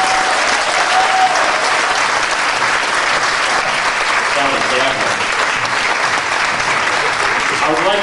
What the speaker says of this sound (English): Big round of applause for these ladies right here.